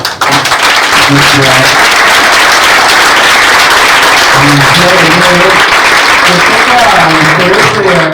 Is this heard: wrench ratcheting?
no